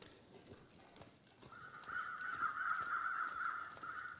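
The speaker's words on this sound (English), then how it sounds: "Oh, weather crows, 5 of them, low to the ground." In the survival video game The Long Dark, a flock of five weather crows circling low to the ground gives a sustained, fairly quiet cawing call over a faint rhythm of ticking steps.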